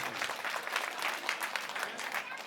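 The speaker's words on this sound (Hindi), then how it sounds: "इसके लिए जोरदार तालियां" Crowd at an outdoor political rally applauding, a steady dense wash of many hands clapping that holds evenly throughout, heard at some distance with no speech over it.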